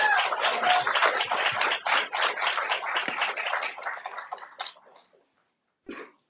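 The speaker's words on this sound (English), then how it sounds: "Class of 2026, can you give a round of applause for all of your supporters here today?" A graduation ceremony crowd at Bay Mills Community College gives loud, sustained applause for the Class of 2026 graduates' supporters. The clapping fades out after about five seconds, followed by a brief pause and then a short final burst.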